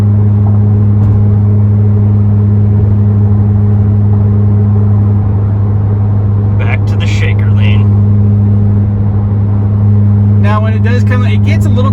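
A VW MK7 Golf R fitted with a Nameless Performance exhaust drones steadily under acceleration, a loud, even engine hum inside the car while a person speaks in short bursts.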